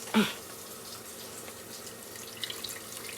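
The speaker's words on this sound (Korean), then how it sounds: "자, 물을 한번 넣겠습니다." Water poured into a coffee maker's reservoir, a faint trickling stream running quietly for a few seconds after a short knock at the start.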